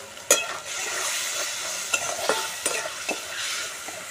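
Chopped tomato fries with spices in a pan, a soft, steady sizzle overlaid by several crisp scraping stirs and light utensil knocks spaced across the few seconds.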